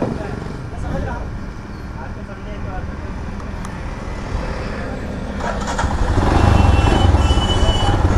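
A loaded Royal Enfield Himalayan BS6 motorcycle sits in neutral while ambient rumble and traffic-like noise fill the background. Late in the clip its engine appears to fire up, and a fuller, louder low-pitched rumble swells in and keeps running.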